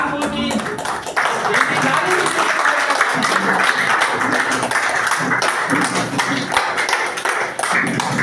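An audience at an Ayurveda company's opening event applauds loudly and continuously for several seconds, a dense wash of clapping from a crowd in a hall, with a voice heard under it.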